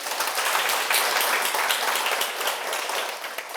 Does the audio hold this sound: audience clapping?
yes